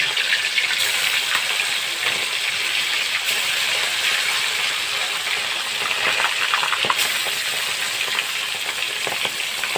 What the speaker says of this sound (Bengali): আলু দিয়ে ভোলা মাছটাকে ভেজে নিচ্ছি।